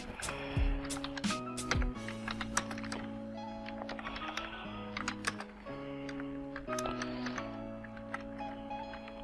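Code being typed on a computer keyboard in a Python OpenCV programming session, coming through as quiet irregular key taps in short bursts over a sustained background hum.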